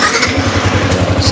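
A Yamaha Sniper 155 motorcycle engine catches and settles into a steady, rapid putter, loud and close.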